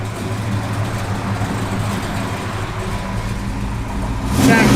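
A 1972 Chevrolet Chevelle with a big block 454 engine rumbles steadily with a deep, throbbing idle, then revs up sharply and loudly in the final moment. Nobody speaks over the engine.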